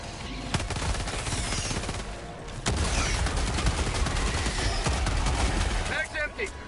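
Helldivers 2 weapons unleash dense, continuous bursts of gunfire and heavy impacts with no letup, loud and close, while a voice is heard briefly toward the end.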